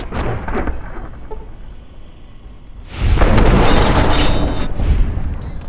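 Grenade rifle rounds explode in Fallout: New Vegas, with a muffled boom followed by a loud, sustained rumbling blast that stays heavy and close until the end.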